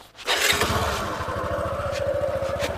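Motorcycle engine running close by in a steady, pulsing idle after a brief start-up, with a dense low putter throughout and no talking.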